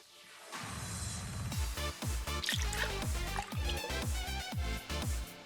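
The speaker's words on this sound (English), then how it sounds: "Now we're going to add 2 ounces of this carefully poured Jawa Juice that we found on Coruscant." Jawa Juice poured carefully into a cocktail glass for an Old Fashioned, a close, steady stream of liquid that drips and burbles with wet, rhythmic glugs for several seconds.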